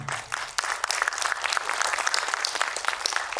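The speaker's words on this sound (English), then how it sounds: "a big round of applause to them" Audience applause for a sponsor at a Web3 entrepreneurs and investors conference, a crowd clapping briskly and continuously after a brief lead-in, moderately close and without talk.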